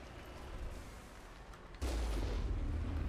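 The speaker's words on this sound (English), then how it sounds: "You can snipe these dudes with the cannon." Vehicle cannon fire in the video game Mass Effect: a quiet rumble, then one sudden heavy blast whose booming roar carries on loudly to the end.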